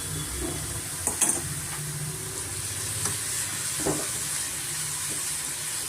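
Soaked red poha is stirred in a pan with a soft, steady sizzle. A few scraping clinks of a utensil against the pan come through clearly, with no talking.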